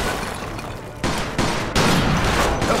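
Shotgun gunfire in Mafia 2 comes as a dense, continuous burst of loud blasts, with heavier shots landing at intervals and no talking.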